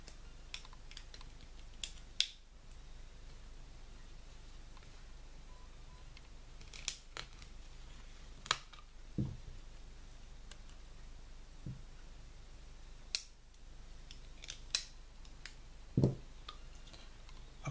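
Scissors cutting a small piece off a drinking straw, sparse sharp clicks and snips at irregular intervals, close and quiet against a faint steady background hiss, with no talking.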